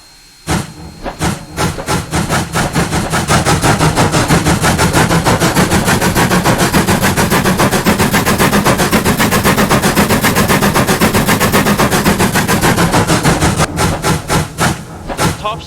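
Rapid, loud steam locomotive puffing from the number 7 engine, a geared 0-4-0T in a Roblox-style railway game, with a fast steady beat of chuffs that runs nearly the whole time before easing off at the end.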